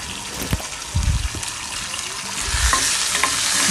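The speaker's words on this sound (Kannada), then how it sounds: "ಶುಂಠಿ ಬೆಳ್ಳುಳ್ಳಿ ಪೇಸ್ಟ್ ಹಾಕಿದ್ದೀನಿ. ಅದು ಕೂಡ ಎಣ್ಣೆಯಲ್ಲಿ ಚೆನ್ನಾಗಿ ಫ್ರೈ ಆಗಬೇಕು." Ginger garlic paste fries in oil in a pan for dal, a loud close sizzle with wet stirring scrapes and knocks, building slightly toward the end.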